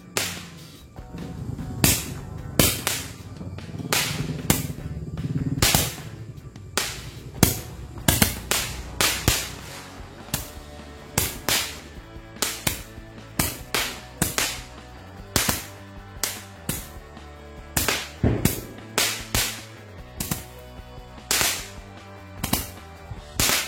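Dozens of firecrackers go off on the night before Eid, sharp loud cracks arriving one after another in an irregular string of single bangs and quick clusters, with no talk.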